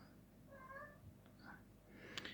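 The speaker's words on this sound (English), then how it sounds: "my cats are chasing each other" Pet cats chasing each other indoors, giving a few short meows and mews close by amid light scuffling movement, with no talking.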